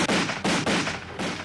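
Repeated gunfire volleys from an animated battle scene, four loud broadband bursts fired in quick succession with short decays between them, close and dominant with no talk.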